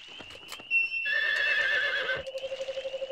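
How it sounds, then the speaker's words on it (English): A horse in the video game Harvest Moon 64 gives a bright, wavering electronic neigh lasting about a second, followed by a short series of rhythmic hoof clops, with no talking. "Come here, horse. That horse is not obeying."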